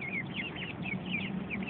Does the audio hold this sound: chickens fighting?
yes